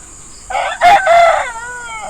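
A rooster among farm chickens lets out a single loud, close crow lasting about a second, standing alone against a steady background hiss.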